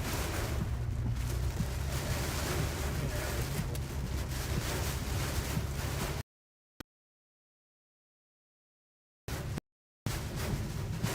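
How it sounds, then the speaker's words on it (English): Strong, gusting wind during a tornado-warned storm roars as heavy, broadband rumble buffeting the microphone for several seconds before cutting out, then briefly returning. "I mean, this is crazy windy here."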